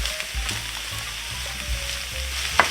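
Onions and apples sizzle and crackle steadily in a pan close by, with occasional soft stirring scrapes and a sharp clink near the end.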